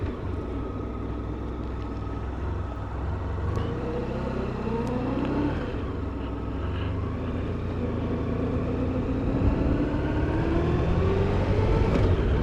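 A Honda VFR1200 motorcycle cruises in second gear at around 30 mph, its engine humming smoothly and rising gently in pitch under steady wind rush, heard from the rider's position with no talking.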